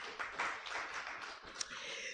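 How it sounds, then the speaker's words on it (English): Faint, brief applause from an audience at a law convention, a soft patter of clapping lasting about two seconds, heard quietly and at a distance. "Let's clap for that."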